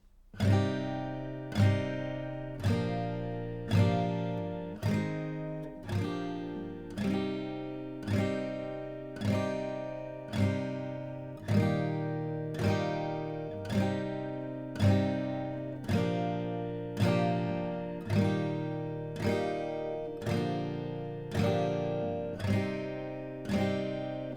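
Strummed guitar chords of a sea shanty in a steady, lilting rhythm, each strum ringing out and decaying before the next, played alone throughout.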